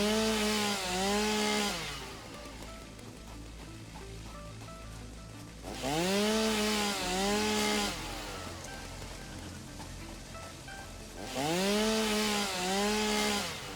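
Chainsaw cutting a tree in the video game Satisfactory: three loud revving bursts of the saw engine, each about two seconds long, separated by a steady idling drone.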